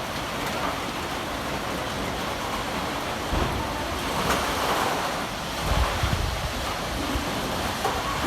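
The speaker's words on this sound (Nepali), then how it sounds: "फेरि यत्रो हावाहुरी आइरहेको" Strong windstorm wind during a storm in Chitwan, roaring steadily as a broad rushing noise with gusts swelling louder midway, buffeting the microphone.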